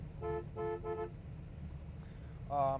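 Three short honks from the horn of a 1969 Plymouth GTX 426 Hemi, heard from inside the car, followed by a louder, longer blast after a pause, over a low idling rumble.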